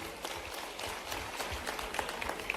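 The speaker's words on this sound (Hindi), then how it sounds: "जोरदार ताली बजाओ इनके लिए।" Applause from an audience at a public address by a state chief minister, a fairly steady patter of many hands clapping at moderate level for a couple of seconds, with faint background voices mixed in.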